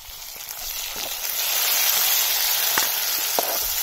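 Tomatoes and green chillies hit a hot pan on an iron wood-fired stove at a jungle campsite, giving a steady, close broadband sizzle that swells after the first second and holds, with a few faint clicks.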